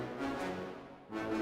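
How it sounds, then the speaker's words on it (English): Quantized short notes of orchestral low brass from a sample library sound in a brief, fairly quiet passage, with two swelling low tonal blasts separated by a slight dip, played alone without any talking. "Now added to that we have the low brass, which sounds like this."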